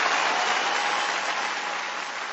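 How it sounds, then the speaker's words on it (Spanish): An audience gives a warm round of applause to welcome a leader on stage at a network marketing event, a dense, even clatter of many hands that fades slightly toward the end. "ayúdenme a recibir con un cariñoso aplauso a nuestro extraordinario líder, Gerardo del Castillo."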